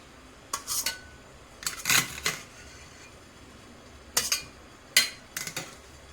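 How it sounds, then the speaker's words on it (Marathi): Steamed chickpea-flour pithla is lifted out and set onto a metal plate with a handful of quiet, short metallic clinks and scrapes, separated by pauses. "आता मी काढून घेत आहे ताटामध्ये हे बघा या पद्धतीने वाफेवर चांगलं शिजलेलं आहे"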